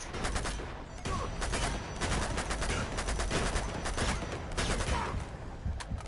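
Rapid video game gunfire, bursts of crackling shots firing in quick irregular volleys at moderate volume, continuous throughout with no voices.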